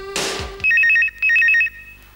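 A telephone rings loudly in a home with two bursts of trilling electronic ringtone, each lasting about half a second, following a brief noisy sound at the start.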